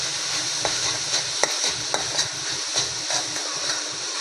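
A spoon stirs grated coconut and jaggery filling in a hot pan, scraping in a steady repeated rhythm over a constant close sizzle.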